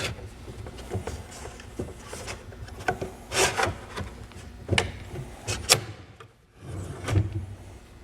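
Wooden cabinet drawer box being hooked onto its slides: a series of close wooden rubs, scrapes and sharp knocks in an uneven rhythm, with brief pauses and no voices.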